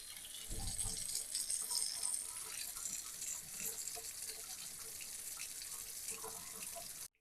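Water streams steadily from a Kohler pull-down kitchen faucet into the sink, a continuous hiss with light splashing and rattle, starting with a brief louder gush and running evenly until it cuts off near the end.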